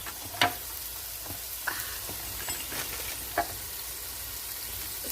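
Sausage and onions stir frying in a hot pan give off a steady sizzle, punctuated by several scraping clicks of a utensil stirring and breaking up the meat, close and alone.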